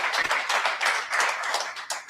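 Audience applause at a book launch: a steady patter of many hands clapping for about two seconds, fairly close and moderately loud, with no voices over it.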